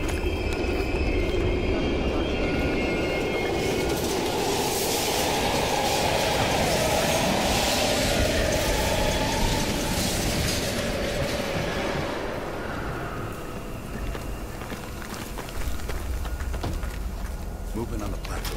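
A train rumbles past in Call of Duty Black Ops Cold War, a loud, sustained roar that builds and then eases near the end, with voices talking over it.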